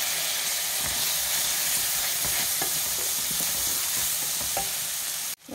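Onion and tomato frying in a pan while being stirred, a steady loud sizzle and hiss with scattered scraping and clinking from the utensil, ending abruptly.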